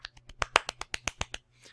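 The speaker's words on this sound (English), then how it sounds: "Everybody golf clap for Bungie." About a dozen soft, quick claps in an even rhythm, close and light, like a polite golf clap, fading out at the end.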